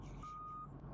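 A bus in the VR game Desert Bus VR sounds its reversing alarm, a single steady electronic beep held for about half a second over a low engine rumble, faint and without talk.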